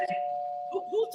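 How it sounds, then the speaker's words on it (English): A doorbell rings with a sustained electronic tone, while faint voices murmur underneath near the end. "Whose doorbell is that? Is that mine?"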